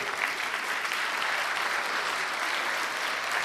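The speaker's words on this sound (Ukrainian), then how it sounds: "Дякую, мої дорогі за ваші оплески" A concert audience applauds a singer with a steady, even wash of many hands clapping together, filling the room for several seconds at moderate volume without voices.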